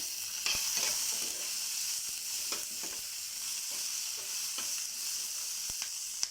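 Green chillies, tomato and onion fry in oil for guava chutney, a soft steady sizzle with occasional light scrapes and taps of a spoon stirring, near and without speech.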